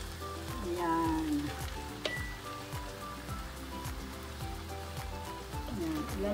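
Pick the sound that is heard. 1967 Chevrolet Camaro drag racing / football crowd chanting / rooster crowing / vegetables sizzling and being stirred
vegetables sizzling and being stirred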